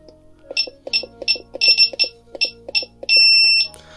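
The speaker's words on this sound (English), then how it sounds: "You wait for these beeps." A Begode T4 V2 electric unicycle gives a rapid series of short, bright electronic beeps in an irregular rhythm, ending in one longer sustained tone, close and clear with no talking.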